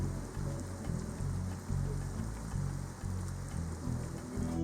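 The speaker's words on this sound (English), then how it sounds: "Then the rains come down." Heavy rain pours steadily onto a houseboat tied up for shelter during a storm in the Pantanal, Brazil, making a dense, continuous patter close by with no pauses.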